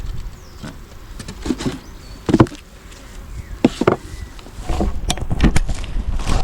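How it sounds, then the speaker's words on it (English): Honeybees buzz around an open hive during an inspection of a polystyrene hive with emergency queen cells. The buzzing is steady and close, broken by scattered taps and knocks as frames are handled, and no one talks. "See a bee going there."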